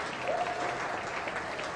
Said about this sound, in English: give them a big round of applause for getting out here and competing